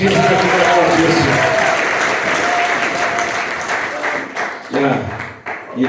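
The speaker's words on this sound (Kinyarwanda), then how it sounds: "Tumukomere amashyi menshi mw'izina ry'Umwami wacu Yesu." A church congregation at ERC Ryabega Parish breaks into sustained, dense applause that fills the room, then thins and tapers off near the end as a voice begins to speak.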